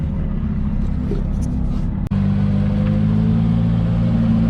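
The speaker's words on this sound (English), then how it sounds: "you're really working hard with it to keep it drifting" A 335 car drifting in tandem on a track, giving a loud, steady engine drone with a brief dip near the middle before the roar resumes.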